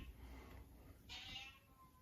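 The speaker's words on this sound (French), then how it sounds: "Et le chat qui est pas content." An unhappy cat meows once, fairly close and loud, with a drawn-out complaint over steady background noise in a garage where short springs are being fitted to a Renault Clio II.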